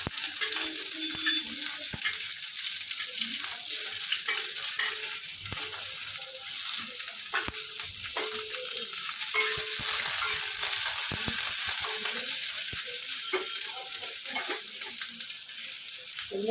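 Garlic and then onion frying in hot oil in a pan, a steady close sizzle with scattered crackles and occasional stirring knocks, no talk over it.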